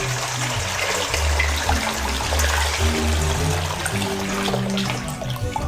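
Tap water gushes steadily into a bowl while filling it for dipping marinated chicken during home cooking. The rushing, splashing flow stays loud and continuous throughout, with a faint low hum beneath it.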